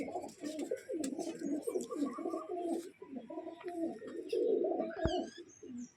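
Domestic green pigeons coo steadily, overlapping low throaty phrases running continuously and close by, with a few higher chirps near the end.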